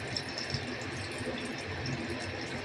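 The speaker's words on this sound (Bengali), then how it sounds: "জল দিয়ে দেব।" Water pours into a pot of mutton biryani base already seasoned with salt and spices, making a steady, soft gushing rush that continues without a break.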